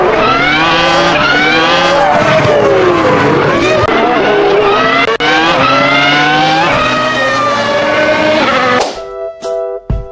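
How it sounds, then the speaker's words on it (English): Loud racing car engine roaring and revving continuously with rising and falling pitch, tires squealing, close by, then cutting off abruptly near the end. "Mobil balap."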